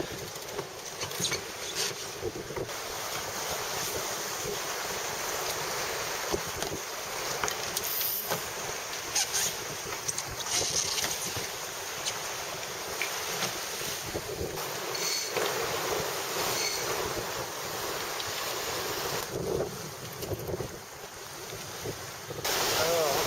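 Wind buffets the microphone over rushing waves and water sloshing against a racing sailboat under spinnaker in about 20 knots of wind, loud and gusty throughout, with occasional faint voices.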